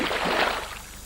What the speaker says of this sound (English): Skim that pebble across the water.